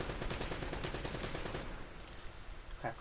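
Rapid bursts of assault rifle fire in Uncharted: Drake's Fortune, loud and sustained for over a second, then trailing into scattered shots and quieter noise.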